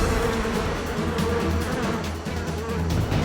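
Dozens of honeybees balling around a giant hornet, a dense continuous buzzing drone, loud and close, with no pauses.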